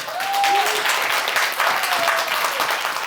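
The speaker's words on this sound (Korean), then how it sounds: "박수 한번 주세요" Audience applause at a live comedy show in Seongsu, Seoul, a full, sustained wash of many hands clapping at steady volume, with faint vocal whoops rising briefly above it.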